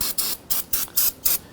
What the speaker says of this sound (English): Give that a spray and wipe this down.